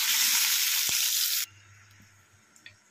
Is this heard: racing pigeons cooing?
no